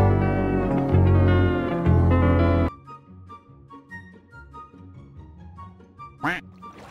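Loud Minecraft game music cuts off abruptly and gives way to quiet ambience. A single sharp, squawking chicken call rises out of it near the end.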